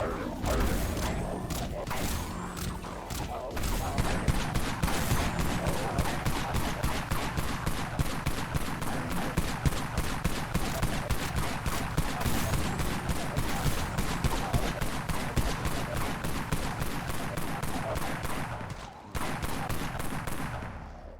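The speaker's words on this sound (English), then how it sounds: "Sounds like someone else is using the Dusk Carbine." Dusk Carbine rifle fire in the online zombie shooter Dead Frontier, a long run of rapid, steady shots cracking off almost continuously, loud and close, with a brief pause near the end before firing resumes.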